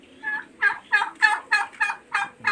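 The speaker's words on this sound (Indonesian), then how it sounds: "Ini kalkun." A turkey on a farm gobbles in a quick run of about eight loud, rhythmic bursts close to the listener, with no talk over it.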